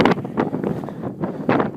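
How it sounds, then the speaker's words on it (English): Gusty wind buffeting an outdoor microphone on a hilltop trail, in uneven bursts, loud and close, with a few sharper gusts rising and falling. "Whew, it's windy."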